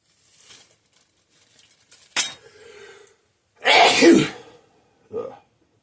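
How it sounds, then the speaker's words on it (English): Two sharp bursts of sneezing separated by a pause, then a smaller third one, with faint breathing and rustling in between. "If this keeps up, this sneezing fit, sometimes it can last a few minutes."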